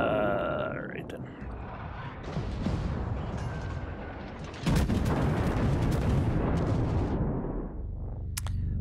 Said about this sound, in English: that was a whole bunch of shooting at nothing